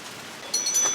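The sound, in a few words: heavy hurricane rain falling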